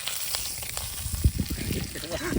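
Fish fries in oil outdoors in a forest, giving a dense, close, continuous sizzle and crackle that stays loud and steady throughout.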